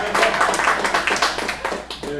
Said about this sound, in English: Round of applause, hey,